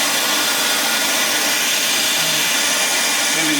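Welding on a bus transmission mount for a 4L80E gearbox gives a loud, steady, crackling hiss that continues without a break.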